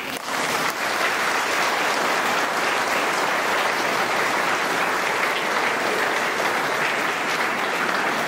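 A congregation applauds the newly baptized in a church, a loud, dense, continuous clapping from many people that holds steady for over eight seconds with no speech over it.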